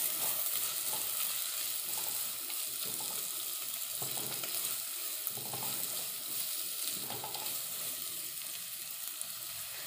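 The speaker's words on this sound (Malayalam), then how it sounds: "വെളിച്ചെണ്ണ ചൂടായിട്ടുണ്ട് അതിലേക്ക് ഞാൻ സവാള ചെറുതായിട്ട് അരിഞ്ഞത് ചേർത്ത് കൊടുക്കുന്നുണ്ട്" Four chopped onions fry in hot coconut oil, a dense, continuous crackling sizzle close by with light stirring scrapes, steady throughout and unaccompanied by talk.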